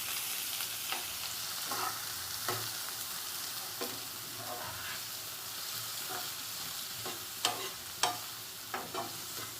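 Onion and green chili sauté in a pan for white sauce pasta, a soft continuous sizzle punctuated by irregular scraping stirs of a spoon, the clicks sharpening toward the end.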